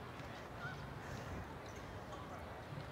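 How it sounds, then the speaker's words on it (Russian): Geese honking by a lake on the Toronto Islands, a faint, scattered chorus of calls at a distance over steady outdoor ambience, with faint voices in the background. "И вон там гусей полно."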